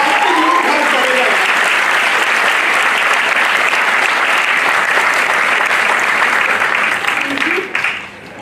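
A large hall audience at a Safe Shop direct-selling event claps loudly and continuously, a dense sustained roar of applause that tapers off near the end.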